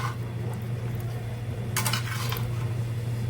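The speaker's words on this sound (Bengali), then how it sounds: "কচুর তরকারিটা কষাই আমি এই যে মাছ দিয়ে দিচ্ছি" Taro curry stirred in a pan as fish is added, with scraping utensil and pan clatter over a steady low hum, one brief louder burst of clinking midway, close and without talking.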